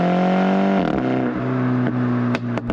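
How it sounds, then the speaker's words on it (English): A MINI John Cooper Works engine with a JCW Pro exhaust revs with a steady drone, then drops in pitch at a gear change, followed by sharp pops and crackles from the exhaust. "a little burble, or some people say fart, in between gear change"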